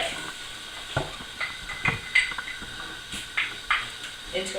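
Garlic cloves dropped into hot lard in a skillet for refried beans, with soft sizzling and scattered clinks of utensil on pan, while a person talks over it.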